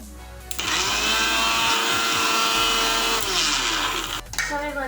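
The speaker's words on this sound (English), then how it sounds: "So now let's grind these biscuits." An electric mixer grinder crushing biscuits, starting abruptly into a loud whirring motor drone with rattling contents, running about four seconds before spinning down.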